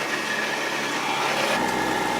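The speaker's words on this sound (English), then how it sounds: "You hear the track noise. More track noise than engine noise." A Ski-Doo Skandic 900 ACE snowmobile at about 70 km/h gives a steady, loud broadband rush of track noise over a lower engine drone, with no break throughout.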